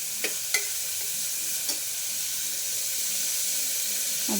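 Vegetables for paneer pulao frying in a pan, a steady soft sizzle running throughout with a few brief clinks of a spoon stirring near the start.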